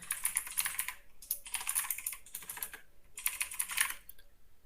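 Quick bursts of clattering keystrokes on a computer keyboard, three runs of steady typing separated by short pauses, close and clear with no speech.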